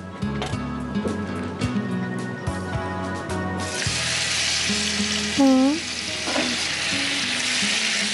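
Chicken is tipped into a hot pan on a studio cooking show. Clattering and scraping come first, then a loud, steady frying sizzle that rises and holds, with a brief voice cutting in partway through.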